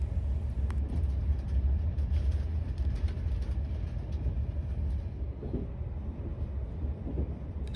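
Interior rumble of an AP passenger train running through Portugal, as heard from a second-class seat: a steady low-pitched roar with faint rattles and clicks, continuous and fairly loud, with no speech.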